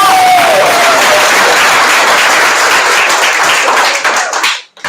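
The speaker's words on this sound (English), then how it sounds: "Yeah, you clap." Audience applause and clapping at a school's twenty-year time capsule event honoring its first teacher, steady and dense for about four seconds before tapering off abruptly.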